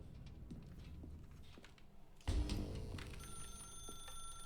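A telephone rings in the video game The Stanley Parable, entering abruptly partway through as a steady electronic ringing tone over faint ambient room sound, fairly loud and alone with no talk.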